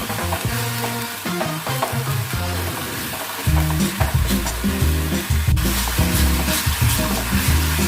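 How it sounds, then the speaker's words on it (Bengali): Cumin, coriander powder and salt masala fry with a steady sizzle while a spatula scrapes and stirs the pan in repeated rhythmic strokes, close and loud throughout. "ভালো করে মশলাটা কষিয়ে নেব।"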